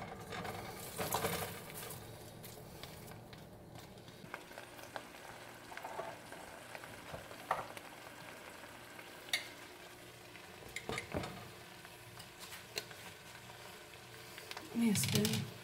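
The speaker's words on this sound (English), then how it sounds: "Onions already in there, and they're already sweating" Onions sweating and frying in a pan at home: a low, steady sizzle runs underneath with occasional utensil clinks and scrapes, while voices chat over it at moderate volume.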